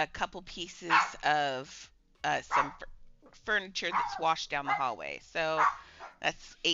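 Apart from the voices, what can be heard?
dog barking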